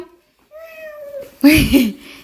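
A cat gives a drawn-out meow, then a louder, rougher yowl right after, close and clear against a quiet background.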